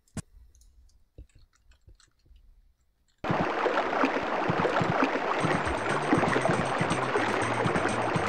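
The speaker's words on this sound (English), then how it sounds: "that's some cool water sound effects" Water sound effects in a SpongeBob video game burst in suddenly after a few soft clicks, becoming a loud, continuous rushing and bubbling wash that carries on to the end.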